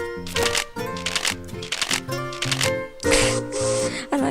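A digital card shuffle from the Ticket to Ride video game: a quick series of crisp riffling flicks mixed with short tonal chimes, closely spaced and fairly loud, ending in a brighter burst.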